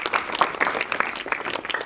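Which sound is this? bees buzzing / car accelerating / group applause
group applause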